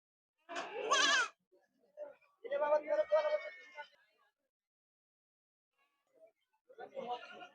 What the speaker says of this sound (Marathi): सुरई क्रॉस मधली शेळी आहे बघा